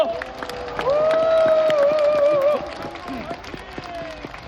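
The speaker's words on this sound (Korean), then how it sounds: "박수를 한번 쳐주십시오" Applause from a crowd at an outdoor political rally, clapping and crowd noise under a loud amplified voice that carries a sustained tone before fading.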